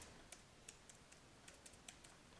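Light, quick keystrokes on a computer keyboard while entering a list, a sparse run of soft separate clicks with pauses between them, faint and close with no talking.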